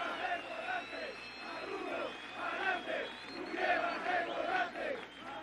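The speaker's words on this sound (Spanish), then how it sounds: "Un aplauso a los trabajadores del transporte." Crowd cheering and chanting for transport workers at a Venezuelan government broadcast event, a loud massed roar of voices with rhythmic shouts rising and falling, heard somewhat distant.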